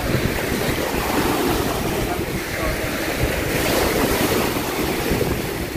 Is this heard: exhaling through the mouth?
no